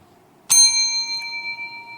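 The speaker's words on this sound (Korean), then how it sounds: "종소리 다 들으시죠?" A bell is struck once during a physics lecture. It gives a bright, clear ding that rings on with a slowly fading, sustained tone in a quiet room.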